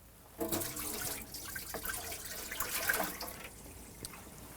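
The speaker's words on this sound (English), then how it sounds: "We can just dump that down the kitchen sink." RV antifreeze from a Winnebago Travato filter is dumped down a kitchen sink, a close, steady splashing and gurgling pour of liquid lasting several seconds, swelling and easing as it drains.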